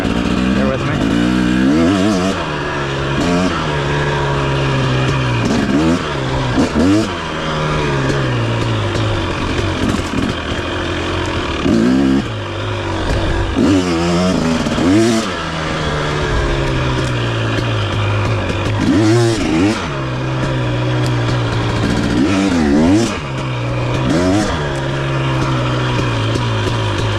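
A 2023 KTM 250 XC dirt bike engine lugging at low revs while being ridden, a steady loud drone with repeated swells as the throttle rolls on and off, and a voice talking over it throughout.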